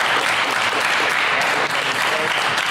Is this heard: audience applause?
yes